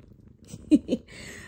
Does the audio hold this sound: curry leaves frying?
no